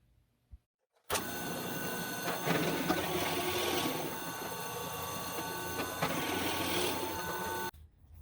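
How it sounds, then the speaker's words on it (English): A power drill spins a countersink bit into pre-drilled screw holes in a 2x4 while framing walls, giving one steady, loud, continuous whirring grind that starts abruptly and runs for several seconds before cutting off. "Now I'm going to use this bit to countersink each hole."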